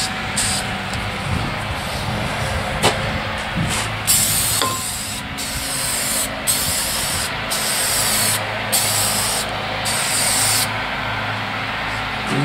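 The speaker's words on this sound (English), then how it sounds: "Spray while moving nozzle across." An aerosol spray can hisses over 062 Vortec cylinder heads being checked for cracks, with a steady broadband spray broken by short repeated bursts and pauses, close to the microphone.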